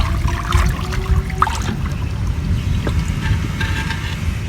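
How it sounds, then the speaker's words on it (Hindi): Water tipped out of a freshly washed flower pot holding sandy mud, a continuous close trickle and splash with small irregular drips, loud and steady throughout, no voices. "अब ये पानी गिरा देते हैं।"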